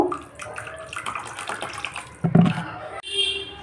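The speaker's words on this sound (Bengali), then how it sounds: "যেহেতু আমার এটা ঘরে বসানো দই, তাই দইটা ভীষণই মোটা। একটু জল মিশিয়ে নেব।" Water is poured and mixed into thick homemade set curd in a bowl, with a brief splashing pour and gentle liquid stirring, close and moderately loud, while someone talks over it.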